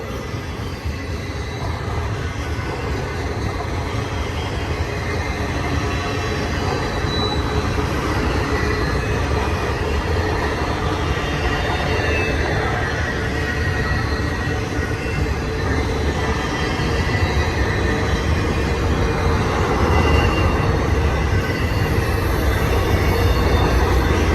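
A BNSF Z trailer freight train accelerating through Cajon Pass, a continuous loud rumble of railcars and rolling wheels with occasional wheel squeal, steady throughout without speech.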